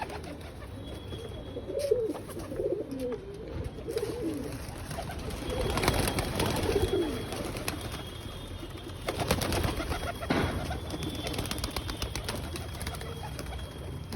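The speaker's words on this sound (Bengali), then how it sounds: "সব পায়রা নেমে গেছে, 5টা বাজে এখন একটা পায়রা নামেনি।" Pigeons coo softly and repeatedly at a home loft in the late afternoon as the birds come down to land, with some scattered wing flutters and faint background noise.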